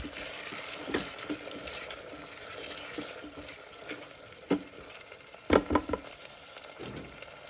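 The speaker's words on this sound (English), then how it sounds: "Roast well so the ginger garlic paste can also start cooking" Ginger garlic paste roasting in a pan for kuska pulao, a moderate steady sizzle with soft spoon scrapes and a few sharper knocks of stirring.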